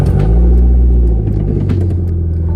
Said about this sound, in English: Some of you are car guys, so I'm gonna go and start it here.